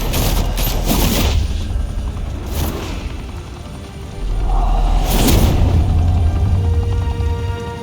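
Gunfire volley in Batman The Telltale Series, with rapid crackling shots and booming impacts over a constant rumbling backdrop, loud and close, with no speech.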